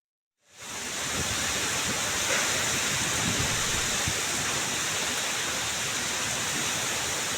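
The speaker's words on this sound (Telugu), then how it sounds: "దాంతో ఈ విధంగా వర్షం పడుతుంది." Heavy rain pours down in Hyderabad, a dense steady hiss that starts suddenly and then holds an even, loud wash without voices.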